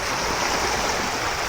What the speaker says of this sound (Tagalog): tingnan natin yung agos napakalakas ng agos dyan